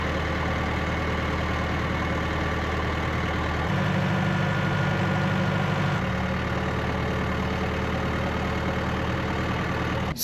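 A tractor engine idles on a New Zealand farm during direct-drill maize planting, a steady close rumble that shifts to a deeper, heavier tone for a few seconds before settling back.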